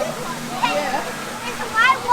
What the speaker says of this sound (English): It's a white waterfall now.